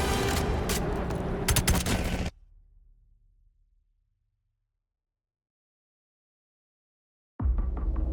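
Bursts of gunfire in the BO7 (Black Ops 7) campaign video game: dense, loud automatic fire for about two seconds, then a low rumbling decay into silence before another burst starts abruptly at the end.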